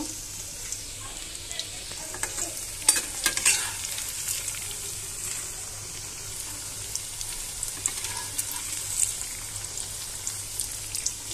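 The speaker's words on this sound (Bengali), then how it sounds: "লাল লাল করে ভেজে নিব আমি" Cauliflower and fish pakoras frying in hot oil, a continuous bright sizzle with occasional clatter and scraping as the pieces are turned over in the pan.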